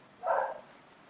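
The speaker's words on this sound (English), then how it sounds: "I'm sorry about the dog in the background." A single brief dog bark rings out in the background, moderately loud and alone, followed by quiet room tone.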